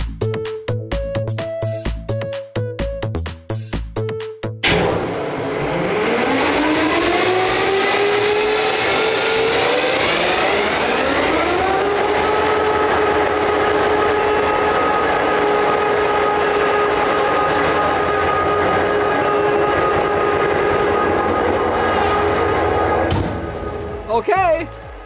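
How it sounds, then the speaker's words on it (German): A locomotive engine starts up and runs loudly from inside the cab: a brief burst of clattering, then a steady, powerful roar that holds evenly for about twenty seconds before cutting off near the end. "Es wird sehr laut hier drin, wenn wir den Motor anlassen."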